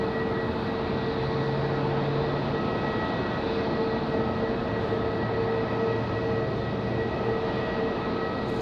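An airliner departs Raleigh-Durham airport at night, a steady broad roar of jet engines holding at full strength throughout without talk.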